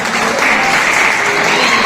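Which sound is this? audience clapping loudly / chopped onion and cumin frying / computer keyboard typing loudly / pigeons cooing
audience clapping loudly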